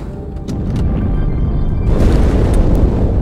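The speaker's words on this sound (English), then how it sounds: "That explosion came from inside the Athens." Explosion in the video game Halo 2, a loud booming blast that swells and rumbles continuously, growing heavier toward the end, with a few sharp pops over it.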